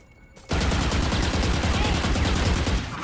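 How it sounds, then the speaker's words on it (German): Sustained rapid gunfire in the video game Valorant, a loud, dense volley of shots that starts abruptly after a brief quiet moment and continues for about two and a half seconds. "Ich schieße euch hier durch mal"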